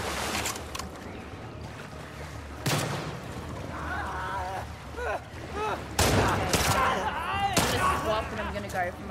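Pistol gunfire in the video game The Last of Us Part 2: several sharp, loud shots at irregular intervals over a dense game soundscape, with a voice heard between them.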